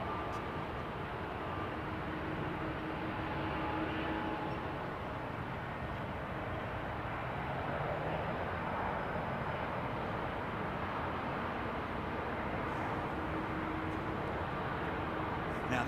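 A Boeing 777-200 with PW4000 jet engines runs at London Heathrow, a steady broadband roar at moderate distance that holds throughout with only slight swells.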